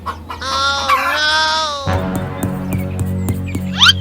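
Chickens clucking on a farm with a wheat-threshing tractor, their harmonic calls and a possible crow at first, then dense clucking and scratchy noises over a low engine hum, near and moderately loud.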